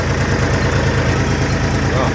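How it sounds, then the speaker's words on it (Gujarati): A farm tractor engine idles nearby, a loud, steady low rumbling throb that holds without change for a couple of seconds. "ટ્રેક્ટર છે આપણું"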